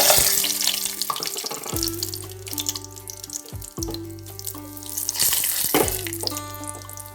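Cashew nuts frying in hot ghee in a pan: a continuous close bubbling sizzle runs throughout, with clinks and scrapes from a utensil and background music over it.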